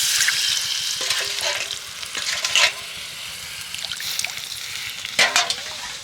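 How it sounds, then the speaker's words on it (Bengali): Milk stirred into hot ghee in a pan while making nolen gur sandesh, giving a steady close sizzle and frying hiss with a few louder stirring scrapes. "দুধটাকে ঘিয়ের সাথে ভালো করে একটু মিশিয়ে নেব"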